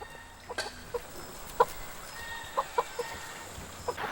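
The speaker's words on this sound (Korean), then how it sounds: "야산에 닭 200마리를 풀어놓고 키우는 이곳은 닭 때문에 갈색 여치의 피해가 거의 없었다고 한다" Free-range chickens on a wooded hillside farm give scattered soft clucks at a distance over a steady outdoor background hiss, with no talking.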